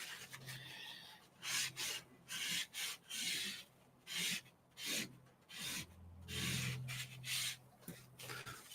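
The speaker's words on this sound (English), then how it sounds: "I think I'm gonna just rub some of this off" Drawing material is rubbed off a piece of artwork in repeated rough, scratchy strokes close up, some short and some longer, with brief pauses between them.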